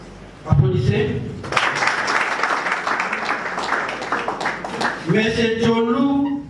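An audience at a political party gathering bursts into sustained applause, dense continuous clapping after a brief spoken word, with a voice returning over the clapping near the end.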